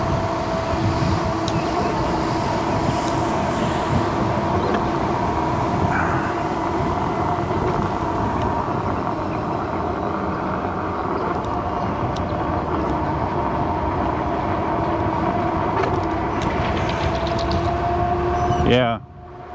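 A V13 electric unicycle rolls over uneven pavers, giving a continuous rumbling road and wind noise with a rider talking throughout, before it cuts off abruptly at the end.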